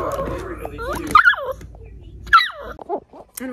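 A dog lets out a couple of short, high yips and whiny barks, close by, with quiet gaps between them.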